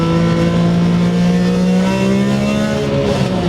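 BMW E46 M3 engine revving hard through a gear pull, a loud sustained roar with pitch climbing steadily, heard from close up with no talk.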